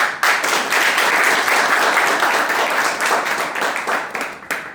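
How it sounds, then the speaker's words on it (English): A Toastmasters club audience breaks into a big round of applause, loud continuous clapping that starts abruptly and holds strong, thinning slightly toward the close. "Let's have again a big round of applause."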